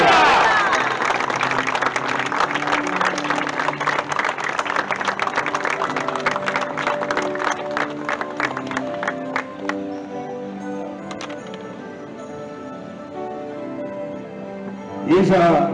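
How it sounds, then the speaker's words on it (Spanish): Crowd applause and cheering at a Malvinas veterans and fallen commemoration ceremony in Villa Angela, loud sustained clapping with a musical tone underneath, fading gradually before a brief burst of noise at the end. "Fuerte el aplauso."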